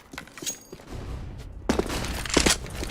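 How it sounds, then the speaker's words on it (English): A flashbang grenade thrown in a video game: a quieter stretch of scattered clicks and rustles gives way to a sudden loud burst of bright, noisy crackling and thumping that stays busy to the end. "throwing a flashbang"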